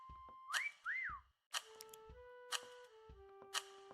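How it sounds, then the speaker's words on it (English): A player character whistles in the Disney Dreamlight Valley video game: a short rising-and-falling whistled phrase, then sustained whistled tones stepping down in pitch, broken by sharp ticking game clicks, clear and alone. "She's going to hear my whistle."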